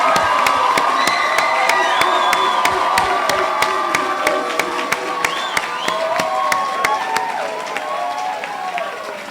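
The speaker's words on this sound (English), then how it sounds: "give them a well-deserved round of applause" Conference crowd cheering and shouting for the standing media delegates, a dense, lively roar of voices with sharp claps and whoops scattered throughout, loud and close.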